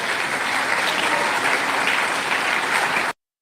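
A crowd at a political rally applauds and cheers in a dense, steady wash of clapping that runs without a break for about three seconds and then cuts off abruptly.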